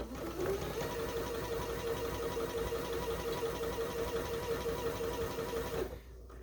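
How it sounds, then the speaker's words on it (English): A sewing machine runs steadily for about six seconds, stitching a quarter-inch seam through quilt fabric for a heart quilt, with a continuous mechanical whir that stops abruptly near the end. No one speaks. "I'm going to put it right on the machine. And we're going to sew my 1/4 inch"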